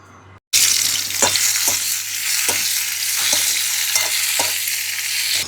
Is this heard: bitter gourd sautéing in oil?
yes